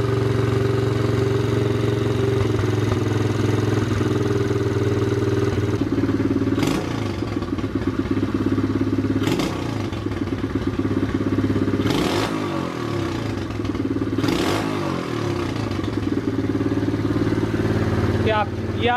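Freshly assembled Loncin 110/125 motorcycle engine built for a turbo, idling smoothly and evenly just after its first start, a loud close steady putter with a few brief sharp noises over it.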